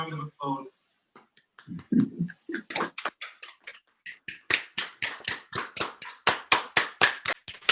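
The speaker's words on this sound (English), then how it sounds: "So final round of applause." Applause from a small group, scattered claps at first building into a steady run of sharp, close hand claps that carries to the end.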